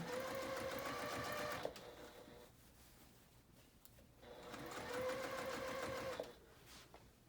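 Two close sewing-machine runs with a quiet gap between them, stitching and back-stitching around a loop on a dress, each a steady whir that ends with a soft clunk.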